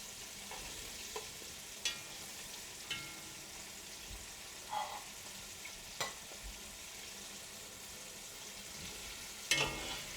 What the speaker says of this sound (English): So fry those for about 90 seconds.